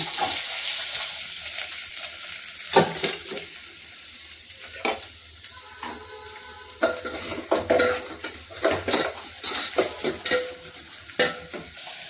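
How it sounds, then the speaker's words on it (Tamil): Curry leaves, green chilies and onion fry in a pan for mutton curry, with a steady sizzle under sharp scrapes and clinks as a spoon stirs, the knocks growing more frequent toward the end. "கருவேப்பிலை, பச்சை மிளகாய் போடுங்க. வெங்காயம்,"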